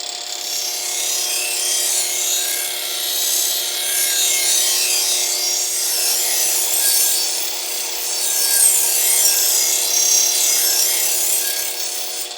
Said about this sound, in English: this polishing wheel is all you're going to need to keep your knife up